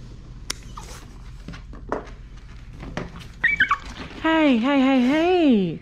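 A dog being groomed for badly matted fur gives a long, high, wavering whimper near the end, following scattered clicks, handling noises and soft speech.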